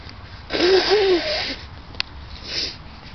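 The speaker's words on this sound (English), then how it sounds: "Let me blow my nose real fast." A single short, honking nose blow up close, followed by a brief click and a softer sniffly exhale.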